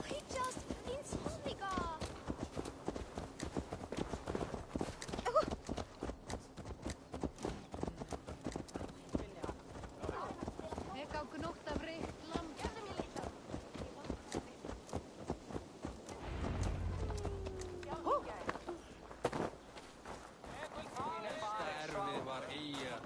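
A horse's hooves clip-clop in a steady, rapid rhythm in Assassin's Creed Valhalla, close and continuous under voices talking, before the gait slows and stops near the end.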